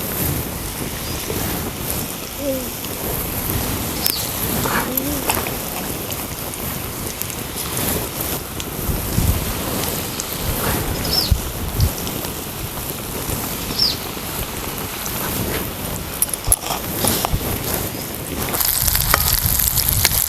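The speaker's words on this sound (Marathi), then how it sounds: "बारीक जाळवरती तळायचं" Ridge gourd bhaji fritters frying in oil over a low flame, a steady broadband sizzle and crackle filling the whole stretch with occasional small pops, close and continuous without any talk.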